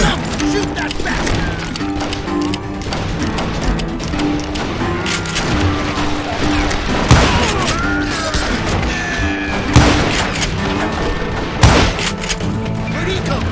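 Gunfire in Call of Juarez Gunslinger, with sharp shots and crashing impacts popping irregularly across a busy mix of game effects and music, while a voice talks over the action.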